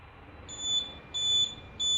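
An Arduino distance-sensor exercise stick beeps three times, each beep a steady electronic tone, fairly loud and close, with a faint hiss between beeps.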